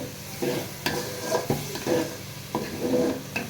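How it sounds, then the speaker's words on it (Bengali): Salted food frying in a pan is stirred with repeated scraping strokes over a continuous sizzle, the strokes coming in an irregular rhythm, close and without talk. "আবার একটু সেটাকে ঠিকঠাক করে নাড়িয়ে চাড়িয়ে নেওয়া হচ্ছে আর কি।"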